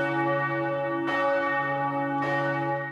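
Large church bells peal outdoors before the closing mass of the Eucharistic Congress. Two resonant strikes layer over a long, humming ring, and the sound stays loud and sustained throughout.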